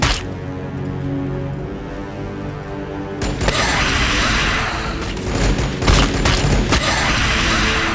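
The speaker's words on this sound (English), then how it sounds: "They're all just gonna throw crack grenades at it." Krak grenades bursting in the Warhammer 40,000: Battlesector game, a dense run of loud explosive blasts and crackling detonations after a steadier droning battle backdrop, close and heavy from about three seconds onward.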